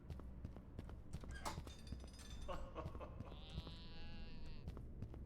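A sheep bleats once in the video game The Count Lucanor, a faint drawn-out cry lasting about a second, set among soft clip-clop footsteps and quiet background game sounds.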